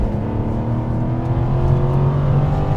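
A V8 sports car engine roars loudly and close by, a steady aggressive revving drone with no voices over it.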